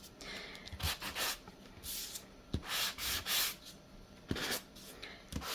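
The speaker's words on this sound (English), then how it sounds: "I do have here my sanding sponge, so we can see how this would work" Scratchy rubbing strokes of a sanding sponge on paper come in short bursts with pauses between, close and fairly quiet, like something abrasive dragged across a surface.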